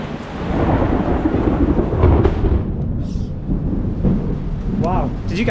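Close thunder rolls and rumbles loudly during a tropical storm with flooding and rain in the Philippines, a long heavy boom swelling then fading, with brief faint voice sounds near the end.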